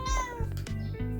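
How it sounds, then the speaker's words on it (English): A pet cat meows loudly and close up, repeating a few insistent calls in quick succession with no talking. "That's my cat. I'm so sorry if he's making a bit of noise."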